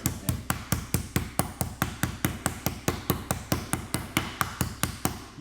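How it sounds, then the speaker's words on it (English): A meat hammer's flat side pounds chicken breast thin in a fast, steady rhythm of about twenty firm thuds, close up and with no talking. "take a little bit of a meat hammer and pound it nice and thin"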